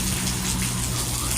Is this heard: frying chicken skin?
no